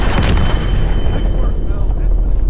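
A loud explosion from the video game Call of Duty: Black Ops Cold War, a heavy boom at the start with low rumbling debris and battle noise continuing steadily throughout.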